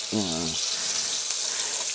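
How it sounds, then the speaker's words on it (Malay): Jackfruit pieces fry in batter with a loud, steady sizzle of hot oil that fills the whole stretch, broken at the start by a short voiced sound. "Ini namanya gori digoreng, enak mengan."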